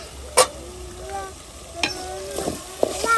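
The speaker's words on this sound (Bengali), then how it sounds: "এই যে মাংসটা ভালোভাবে কিন্তু কষাই নিচ্ছি আমি।" Meat frying and being stirred in a pan in a village kitchen, a soft sizzle broken by sharp metal clinks and scrapes of a spoon, close, with faint tonal background sounds and no clear speech.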